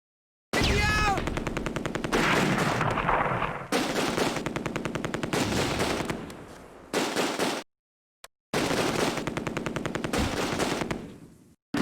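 Rapid machine gun bursts from the war game Close Combat: A Bridge Too Far rattle loudly in long sustained strings, broken by brief pauses and a few isolated shots.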